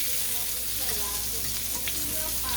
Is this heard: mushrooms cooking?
yes